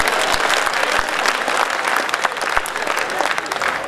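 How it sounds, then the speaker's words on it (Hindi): An audience at a Hindi humorous and satirical poetry gathering in 2018 breaks into dense, continuous applause. The clapping is close and lively, with a few louder individual claps standing out. "ताली बजाकर खुलिए साहब"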